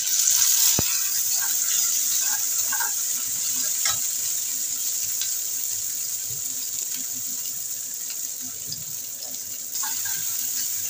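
Chopped tomato tipped into a pan of frying onions, a sharp initial hiss settling into a steady loud sizzle with occasional clatter, no talk.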